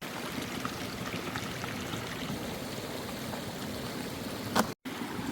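Clean creek water flows in a steady, continuous rush at a gold prospecting site, close and even throughout, briefly broken near the end by a short sharp knock and a moment of dropout.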